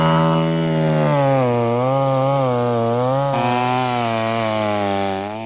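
Chainsaw tip cutting down at an angle into tree roots, a loud close engine whine that dips and rises in pitch under load, running continuously before easing off at the end.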